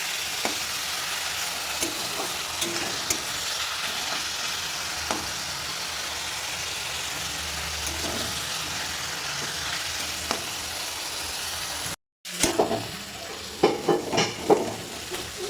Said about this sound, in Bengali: তো চিকেনটা আমার একটু ভাজতে সময় লাগবে।